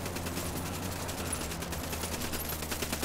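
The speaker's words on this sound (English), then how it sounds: "Opening fire." Sustained rapid gunfire in Ghost Recon on PC, a fairly quiet, dense stream of shots with a steady low hum beneath.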